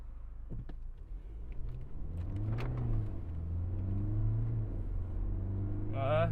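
A diesel BMW F10 on a test drive after repair accelerates with a rising engine drone heard from inside the cabin, building steadily over several seconds, with brief speech early on and near the end.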